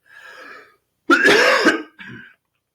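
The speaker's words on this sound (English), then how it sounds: "I've been coughing since yesterday." A few raspy coughs and throat clearings from a person with COVID-19 in quick succession, close and fairly loud, with short pauses between them.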